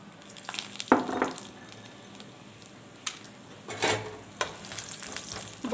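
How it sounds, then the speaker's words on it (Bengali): Lentil dumplings (bori) fry in hot oil in a wok, giving a soft, steady sizzle punctuated by a few sharp clinks and scrapes of stirring. "কড়াইতে আমি তেল গরম করতে দিয়ে দিয়েছি, এর মধ্যে আমি এই বড়িগুলো দিয়ে দিচ্ছি।"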